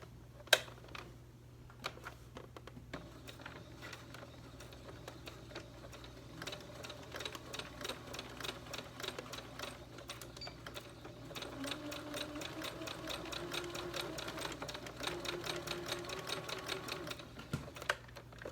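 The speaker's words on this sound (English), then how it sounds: "Finishing the last side seam. Stitch the tie on." A sewing machine stitches a tie onto a homemade holiday apron, its needle running in quick rattling bursts that grow busier toward the end, close but fairly quiet with no talking.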